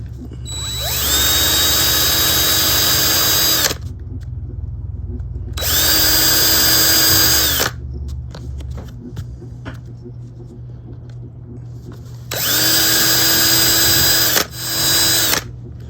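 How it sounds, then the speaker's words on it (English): A power drill with a 3/32 bit bores holes in a leather knife slip, running in three loud, steady whining bursts separated by quiet pauses, with no talk. "Let me get all these holes drilled and I'll be right back"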